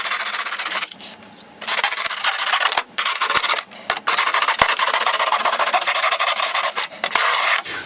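Foam being carved into mountain shapes for a model railroad layout, a loud, steady rasping scrape that runs in long strokes with a few short pauses, close up and with no talk.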